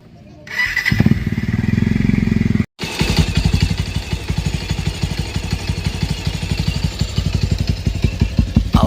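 A Bajaj Rouser 180 motorcycle with a freshly cleaned carburetor cranks, stalls briefly, then catches and settles into a loud, steady, close engine putter with a rapid regular firing rhythm.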